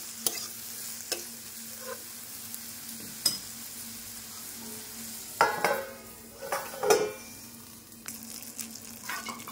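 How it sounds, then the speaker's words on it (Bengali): Eggplant with salt and turmeric stirred in a pan, with a low steady sizzle beneath scattered scraping and clinking of a spatula against the pan, louder bursts of stirring toward the end, no talking. "এবারে বেগুনটাকে নাড়িয়ে চাড়িয়ে একটু ঢাকা দিয়ে রাখতে হবে"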